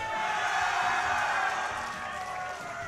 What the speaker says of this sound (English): That war cry was amazing from the crowd right there.